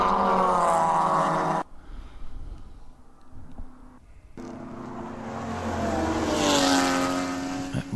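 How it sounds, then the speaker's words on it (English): A Porsche race car in the Parts Badger 14-hour ChampCar endurance race screams past on the track, its engine note rising with a Doppler sweep, dropping away, then returning loud and close. "Sound like a Porsche to me."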